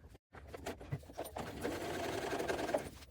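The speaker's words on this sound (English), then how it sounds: "we're just going to sew all the way along the top of the bag here" Close up, a sewing machine runs a steady line of stitches along the top edge of a lined fabric bag, its fast mechanical whir starting after a brief pause and continuing alone.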